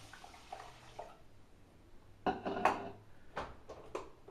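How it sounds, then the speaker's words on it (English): Water splashes and clatters into a metal pot of rice in a few short bursts, with light clinks between pours. "then pour your water in."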